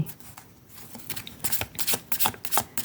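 Tarot cards are shuffled close up in quick, rhythmic riffling bursts of papery flutter, with no talking.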